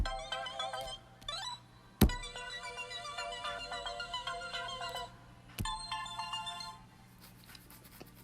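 GarageBand's ARP Animations synth preset plays a bright, rapid arpeggio of bell-like repeated notes. A few sharp thumps cut through the pattern before it thins out near the end.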